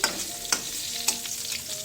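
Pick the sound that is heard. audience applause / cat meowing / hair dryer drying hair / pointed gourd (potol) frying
pointed gourd (potol) frying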